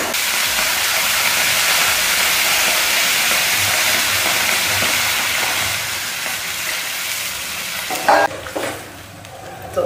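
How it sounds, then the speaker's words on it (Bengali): Gravy liquid hits fried spices in a hot pan with a loud, continuous hissing sizzle that eases off slightly, followed by a few clinks near the end. "এবার আমি ঝোল দিয়ে দেবো"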